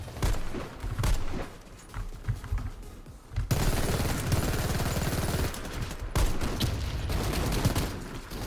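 Rapid automatic SMG-9 Ares Gold fire in the shooter game Warface comes in sustained bursts with brief breaks, loud and dense, alongside other gunfire in the match.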